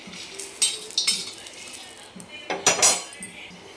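Grated coconut dry-roasting in a pan, with a metal spoon clinking and scraping against the pan in short bursts over quiet background.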